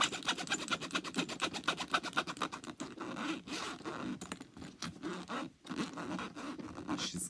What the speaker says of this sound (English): we do love zipper sounds here on the channel